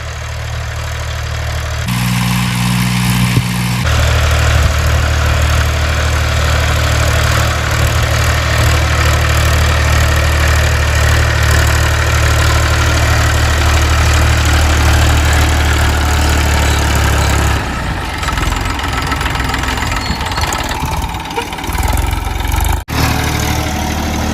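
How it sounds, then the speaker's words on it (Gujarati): A tractor engine pulling a plough through a field drones loudly and steadily with a deep low rumble, easing off briefly near the end. "આપણે તમને બતાવું કેવી રીતે ટ્રેક્ટર પલવ મારે છે"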